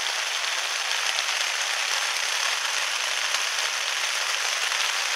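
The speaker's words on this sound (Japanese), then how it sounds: "雨は依然と降ってるんですけど" Heavy rain pours steadily at a riverside campsite at a mountain stream's source, a dense, even hiss of drops on the surroundings with no pauses and no other sounds standing out.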